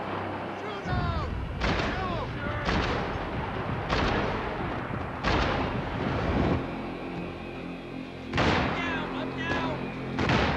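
Heavy gunfire in the Max Payne 3 video game: repeated booming shots and impacts over a dense, loud battle din, with game characters speaking briefly amid the shooting.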